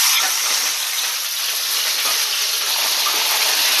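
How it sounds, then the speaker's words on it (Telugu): Cut masala ivy gourds (dhondakaya) fry in hot oil, giving a loud, steady, close sizzle that runs unbroken throughout with no talking. "మసాలా దొండకాయలను బాగా ఆయిల్లో ఫ్రై చేసుకోవాలండి"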